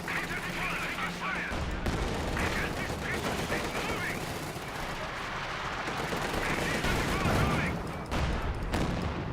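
Gunfire in the Company of Heroes 2 video game, dense and continuous like battlefield rifle and machine-gun fire, loud and steady for several seconds.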